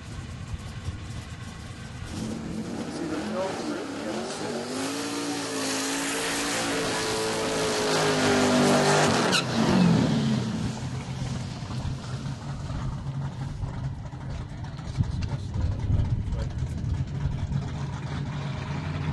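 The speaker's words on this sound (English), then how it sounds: "Rolling into the water box now with his 66 Chevy Nova." A 1966 Chevy Nova drag car rolls through the water box at a drag strip event in Topeka, its engine rumbling loudly and steadily with a revving swell in the middle, continuous and close.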